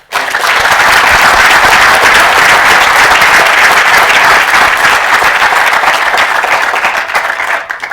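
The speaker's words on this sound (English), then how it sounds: "a hearty round of applause." A large audience gives a discussion panel loud, sustained applause, a thick continuous roar of many hands clapping close and full for about eight seconds with no voices on top.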